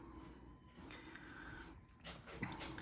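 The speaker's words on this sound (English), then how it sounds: "The puppy is crying." Puppy named BB whimpering and crying softly in the background of a room, faint high whines over a steady low hum.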